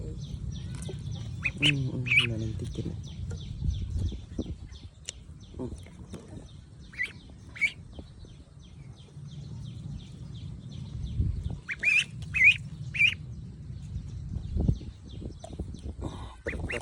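Ducks quacking and squawking in scattered bursts, some loud and close, over low handling noises and a little talking in Khmer or Vietnamese as a duck's foot is treated.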